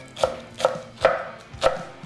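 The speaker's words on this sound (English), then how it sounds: "The last thing we need to do is chop our spring onions for garnish." A knife chops spring onions on a cutting board in four evenly spaced, crisp thuds, each sharp and close, with quiet gaps between and no voices.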